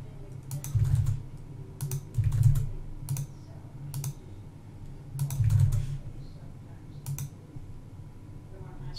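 Typing on a computer keyboard: clusters of quick, close key clicks come in bursts with brief gaps, over a soft low background hum.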